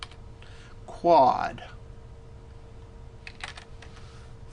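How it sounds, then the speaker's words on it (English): Close keystrokes on a computer keyboard come in one quick half-second burst of clicks, followed by a short spoken word and a quiet room. "you can just start typing"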